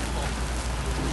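Dense, constant roar of heavy rain and hail pounding on a golf course during a June storm, loud and unbroken for a brief moment.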